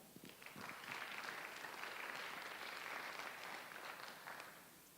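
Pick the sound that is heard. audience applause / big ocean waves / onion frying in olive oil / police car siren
audience applause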